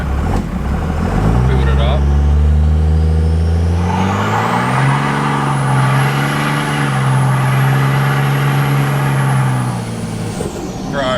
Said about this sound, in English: Load it up on the brake and hit the gas pedal, see what happens.